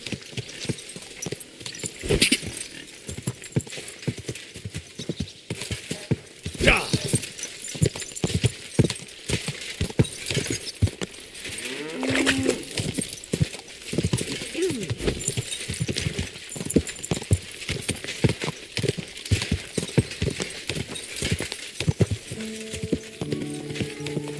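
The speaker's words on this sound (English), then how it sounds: "What a beautiful horse." Hooves of a horse clip-clop in an irregular walking rhythm throughout in the video game Kingdom Come: Deliverance II, close and fairly loud, with occasional jangling and short tonal effects.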